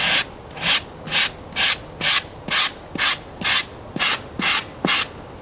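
Spackle on styrofoam is sanded by hand with 60 grit sandpaper for an RC airliner model build, giving eleven regular, close rasping strokes about half a second apart with short quiet gaps between them.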